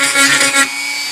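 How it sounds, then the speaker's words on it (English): A Dremel rotary tool cuts into a 3D printed button in a short, close whirring grind lasting about half a second before trailing off. "Let's start with this Dremel tool."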